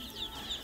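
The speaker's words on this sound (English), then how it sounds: "All these chickens." Chickens cluck softly in short, scattered bursts at a duck and poultry farm, faint and somewhat distant against background noise.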